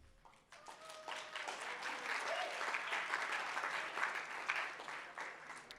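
A room full of people applauding at a student awards ceremony, clapping building quickly and holding steady throughout, moderately distant.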